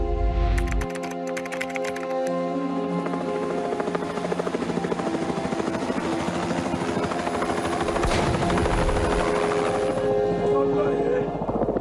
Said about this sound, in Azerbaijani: Kadırda Ağdamdan Şuşaya uçan Mi-8 mülki vertolyot